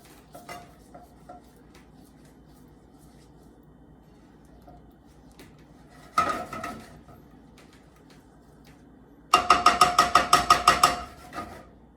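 Metal spoon stirring pepper into chicken in a pan, with faint scrapes early, a louder burst of clatter midway, then a quick run of sharp, rhythmic clinks against the pan near the end.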